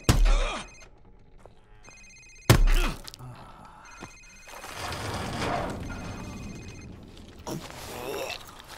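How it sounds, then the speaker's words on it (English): A cell phone rings during a tense interrogation scene in Call of Duty Modern Warfare, its bright repeating tone layered over loud impacts, rumbling game sound and talking voices. "Sir, it's his cell phone."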